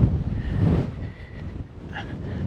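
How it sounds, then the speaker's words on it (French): Wind blowing hard and steadily into the microphone near the Mesa Roldán lighthouse on the coast by Carboneras, Spain, a continuous low rumble with no voices. "Le vent il souffle."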